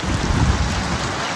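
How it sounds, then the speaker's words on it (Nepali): Steady rain pours down outdoors in a village, a dense, continuous hiss of drops striking surfaces, loud and close with no break and no talking. "पानी पर्छ कसरी जाने"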